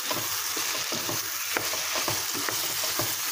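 Steady, dense sizzling of peppers frying in a pan, with occasional soft clicks and scrapes of stirring, close and continuous with no talking.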